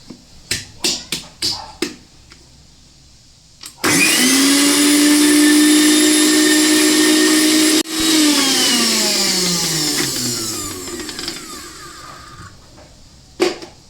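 Several quick clicks and taps, then a mixer grinder roars on loudly, blending spinach for several seconds, briefly pausing, and winding down with a falling whine.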